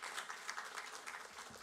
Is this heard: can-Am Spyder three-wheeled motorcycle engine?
no